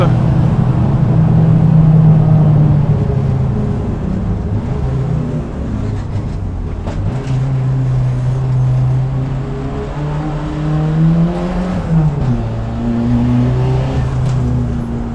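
Renault R21 Turbo Europa Cup front-wheel-drive race car at the Charade circuit, a loud sustained engine drone with the turbo spooling up and pitch shifts through gear changes.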